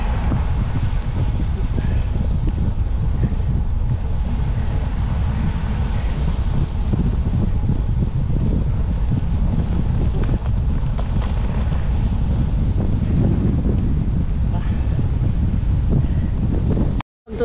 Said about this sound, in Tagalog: Ang lakas ng hangin ng putik.